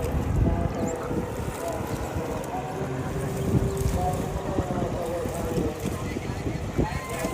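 Boat ride on the river toward Triveni Sangam at Prayagraj during Mahakumbh 2025, with steady wind buffeting and water-vehicle rumble throughout and faint background voices.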